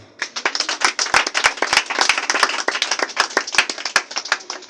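Steady clapping from a church congregation of many hands, sharp claps scattered through a dense, continuous patter.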